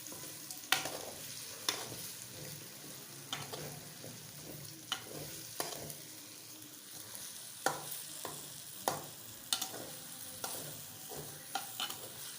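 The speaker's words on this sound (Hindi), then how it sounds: "अभी 2 से 3 मिनट इसको और मज़ीद फ्राई कर लेते हैं" Okra sizzling in a pan with onion and green chili, a steady soft frying hiss over low heat, broken by regular sharp spatula scrapes and stirs every second or so.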